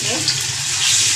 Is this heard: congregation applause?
no